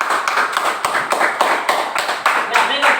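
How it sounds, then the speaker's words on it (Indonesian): Classroom children clapping to applaud a group, a close burst of rhythmic hand claps lasting a few seconds, with voices mixed in. "Oke, tepuk tangan untuk kelompok 2."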